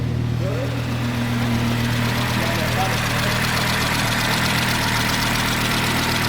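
Rebuilt DAZA engine running on ethanol, a loud, steady close-up idle with a constant low drone and a faint rhythmic knock, holding unchanged for several seconds.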